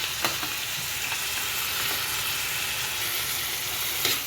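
Soy sauce, chili sauce and vinegar being stirred into noodles frying for non-veg Schezwan noodles, a constant close sizzle with occasional clinks of the spatula against the pan, no speech.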